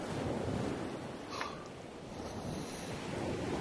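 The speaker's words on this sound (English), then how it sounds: "The breeze is pretty fierce right now" Strong sea breeze buffeting the microphone on a boat at sea, a continuous rushing roar with low rumbling gusts and faint water wash, no voices.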